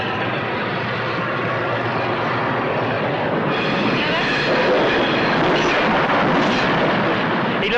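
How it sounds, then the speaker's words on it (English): A train roars past in a Buster Keaton film, a dense steady rumble that swells slightly midway and stays loud throughout. "He looked and watched the train go by like that."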